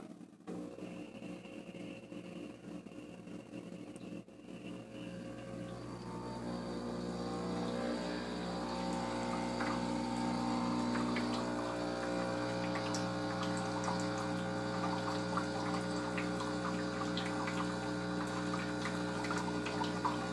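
A Breville Bambino espresso machine pulling a shot, its pump humming and buzzing at close range as it builds from a quieter start into a steady, loud vibrating drone with a watery gurgle, and no one speaking.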